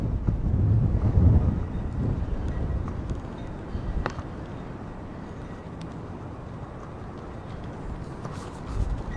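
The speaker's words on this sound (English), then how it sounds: "it is really windy" Strong wind buffets the microphone in heavy, rumbling gusts that ease slightly but keep roaring throughout, with faint knocks underneath.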